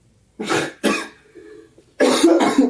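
A few sharp coughs up close, two quick ones, a brief pause with a throaty rasp, then two more harsh coughs.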